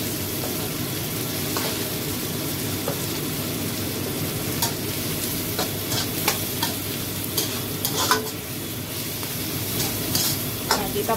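Bumbu pecel peanut sauce fries and is stirred in a pan, a steady sizzle running throughout with scattered scraping clicks of the utensil growing a little busier toward the end.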